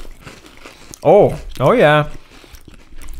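Close, crisp crunches of Ruffles Double Crunch Hot Wings potato chips being bitten, a few sharp crackles, with a brief spoken voice overlapping them.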